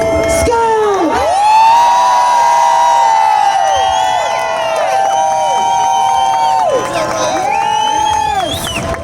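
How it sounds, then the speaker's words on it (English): An audience cheers, whoops and shouts loudly for a comedian being introduced on stage, a sustained wall of crowd noise with high excited voices rising and falling throughout. "Everybody put your hands together for Chris Scott"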